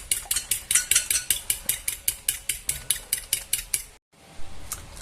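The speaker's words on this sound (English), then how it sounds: "So we'll beat this up until it's creamy" A utensil beats a creamy mixture in a bowl for breaded chicken fillets, making rapid, evenly spaced clinks against the bowl, about four strokes a second. It is close and fairly loud, then stops abruptly, followed by a brief pause and a soft knock.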